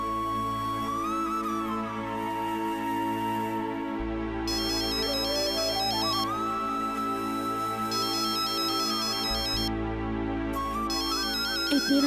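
A phone ringtone plays a steady electronic melody late at night, loud and close, repeating in cycles with no voices over it.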